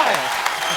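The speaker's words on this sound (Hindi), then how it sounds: "ताली" Studio audience applause at a comedy show's anniversary celebration, a brief dense burst of clapping with a voice talking over it.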